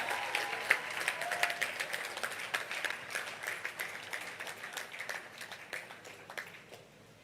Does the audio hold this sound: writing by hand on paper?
no